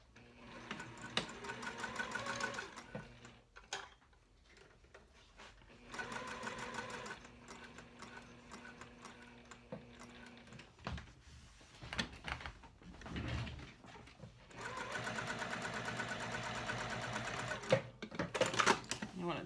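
A sewing machine stitches quilting lines through Range Backpack fabric with a size 14 Microtex needle at stitch length 4, running in steady bursts of rapid close clatter separated by short pauses, with a person talking in between.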